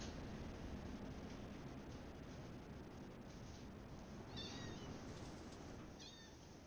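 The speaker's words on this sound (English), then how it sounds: "I don't know if you can hear my cat. She's just staring at me meowing for no apparent reason." A pet cat meows twice, short faint mews separated by about a second and a half, heard indoors over a steady broadband hiss.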